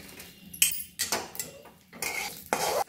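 Poppy seeds dry-roasting in a pan for homemade red chilli masala powder, with a spoon scraping and stirring against the metal in short, uneven bursts up close, plus faint clinks between strokes.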